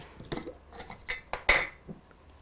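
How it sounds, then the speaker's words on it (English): A spoon clinks against glass while stirring a cranberry juice and ginger ale drink, several light taps and scrapes with one brighter ring, close and fairly quiet. "And then we're just going to give that a little bit of a stir."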